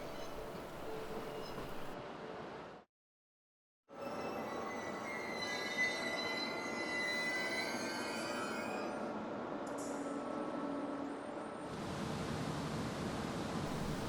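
A train rolls into Minami-Otari station on the JR Oito Line with steady rumbling and long, high wheel squeals, briefly cutting out before continuing as it slows.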